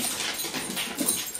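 Dogs whimpering and panting close by, soft high whines over quick breaths, brief and fairly quiet.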